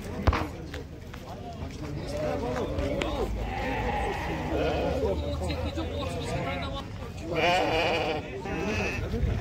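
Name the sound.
sheep and goats bleating at a livestock market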